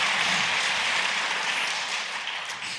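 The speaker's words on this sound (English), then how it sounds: "give him a round of applause" Sustained audience applause in a university hall during a public talk, a steady wash of many hands clapping that fades slightly toward the end, with no speech over it.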